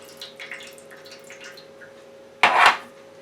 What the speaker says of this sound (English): I want to pour the juice off in here, in the pan.